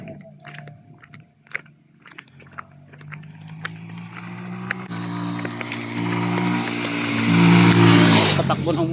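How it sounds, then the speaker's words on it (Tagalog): A motorcycle engine hums along a road in the Montalban hills, its pitch rising and growing louder as it accelerates, with clicks and faint handling noise. "Patakbo ng motor."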